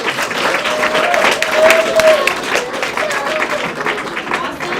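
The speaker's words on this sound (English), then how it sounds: "let's clap for them" Audience clapping for piano students at a spring piano recital, a steady, dense wash of applause through the whole stretch with a brief sustained tone and some voices mixed in.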